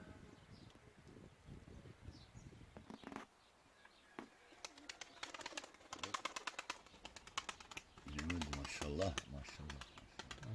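A Bozdumanlı pigeon flutters and lands nearby in a garden, with wing flaps and soft coos, alongside light tapping and quiet chatter in the background.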